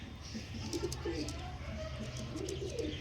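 Pigeons cooing softly in low, repeated murmurs, with a person talking over them.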